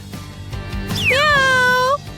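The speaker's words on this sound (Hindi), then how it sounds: "ये एक बिल्ली है।" A cat gives one clear, drawn-out meow that rises and then settles, close and fairly loud over a faint low background hum.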